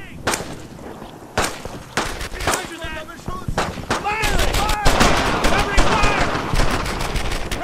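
Rapid bursts of automatic and single-shot gunfire crack through a World War II shooter, Brothers In Arms: Earned In Blood, with sharp repeated reports and echoing volleys building in density, while shouted voices mix in among the shots.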